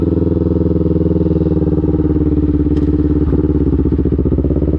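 A quad bike engine runs loud and close, a steady throbbing idle with even, rapid pulses and a faint clatter.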